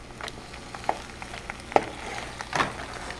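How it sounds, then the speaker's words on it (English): Mac and cheese sizzling faintly in a pan as a spoon stirs it, with three brief scraping clinks spaced evenly over a low, steady frying hiss. "the food is sizzling."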